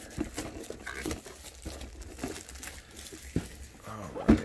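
Plastic shrink wrap crinkles and tears as it is peeled off a Warhammer 40k Space Marine Stormraven model kit box, with irregular close crackles and a louder crunch near the end.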